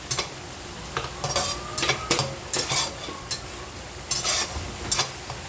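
Spatula scrapes and clatters against a pan as a spice paste with extra chili is fried for a tomato fish bhuna, in uneven bursts over a soft, steady sizzle, close by with no talking.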